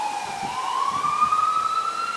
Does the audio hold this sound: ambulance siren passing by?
yes